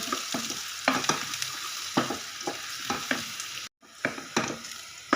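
Ginger and garlic frying in a pan, a loud close sizzle punctuated by repeated stirring scrapes, with a brief dropout before the frying resumes.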